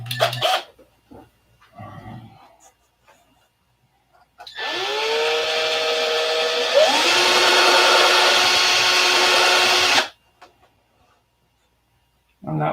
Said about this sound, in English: so we'll just clean it up with the drill.